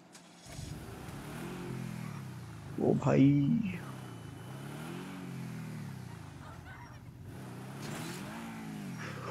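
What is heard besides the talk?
Lamborghini engine revving as it drives off in video game GTA 5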